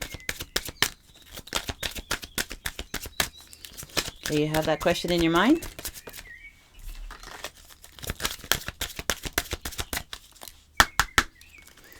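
Quick crisp snaps and riffles of tarot cards being shuffled by hand, close by, with a brief spoken question partway through.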